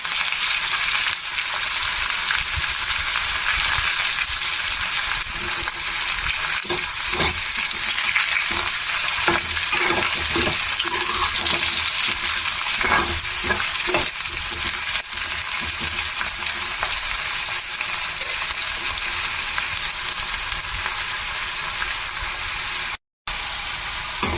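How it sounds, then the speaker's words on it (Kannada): Mustard seeds, curry leaves and chopped onion fry in about four spoons of oil in a pan for ladies finger fry, giving a loud, steady sizzle with faint crackles and stirring scrapes throughout, no voices. "ಈ ರೀತಿ ಬಾಣಲಿಯಲ್ಲಿ ಒಂದು 4 ಸ್ಪೂನು ಎಣ್ಣೆ ಹಾಕೊಂಡ್ಮೇಲೆ ಒಂದು ಅರ್ಧ ಸ್ಪೂನು ಸಾಸಿವೆ ಹಾಕೋಬೇಕು."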